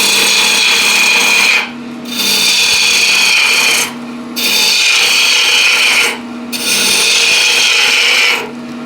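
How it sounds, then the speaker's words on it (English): Peeling cuts on wood while carving a ladle, four long rasping strokes separated by brief pauses, loud and close with a gritty scraping texture. "The quickest way to remove this waste is by peeling cut."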